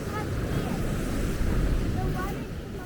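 Strong high-tide surf at a beach in Zambales gives a continuous low roar of crashing water, with wind buffeting the microphone and faint voices in the background.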